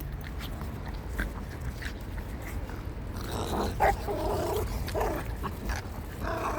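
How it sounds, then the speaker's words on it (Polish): A small three-legged dog outdoors gives soft whimpers and short yelps over steady background noise, growing a bit more active toward the end. "Idzie piesek. Muszę reagować."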